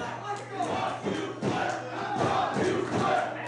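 A wrestling crowd at a live show chants and jeers in disapproval, loud and close, with rhythmic surges of massed voices rising and falling across the moment.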